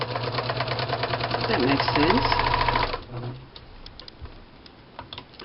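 Sewing machine stitching a French-style lavender heart, a close rapid rhythmic needle chatter for about three seconds, then stopping as a voice speaks briefly over quieter room noise.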